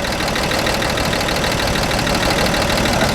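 A car engine idles steadily after a carburetor rebuild, its dense, even drone running without change, close and fairly loud, with no voices over it.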